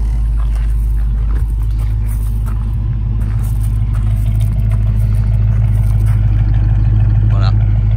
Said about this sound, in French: Démarrage, vous êtes au volant d'une Mustang.